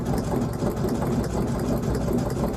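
A sewing machine stitching a fabric rope trivet runs with a steady, close motor whir and a fast needle rhythm, without pauses.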